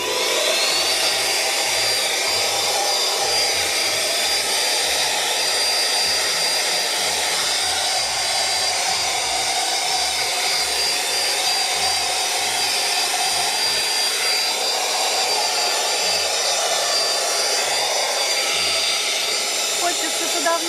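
A Xiaomi Shunzao Z1 cordless vacuum cleaner runs continuously at close range, a loud steady whine with a high motor tone and low bumps of movement.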